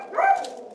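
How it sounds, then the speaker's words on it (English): A dog gives a single short, sharp bark at the neighbors through a screen door, close and fairly loud, alone without voices. "Hey, if you want to bark, go outside."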